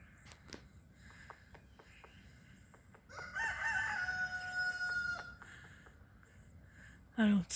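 A rooster on a neighbouring property gives one long, clear crow at moderate distance, set among scattered outdoor ticks and faint background noise, with a brief loud knock near the end.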